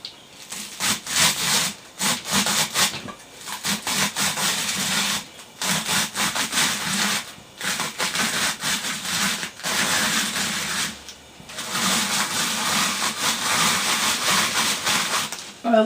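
Cabbage is pushed through a kitchen shredding gadget, a loud, rough, continuous grating and crunching in repeated long passes with short breaks, and a voice is faintly present.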